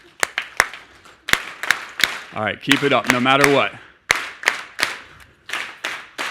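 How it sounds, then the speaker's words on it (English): Sharp audience clapping along in a steady beat at a conference, pausing while someone speaks, then picking up again in rhythm. "I'm going to get y'all to clap"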